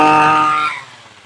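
A Poulan hedge trimmer's small engine, choke off, fires and roars loud and close with a high buzzing whine for under a second, then drops off quickly into a softer fading tone.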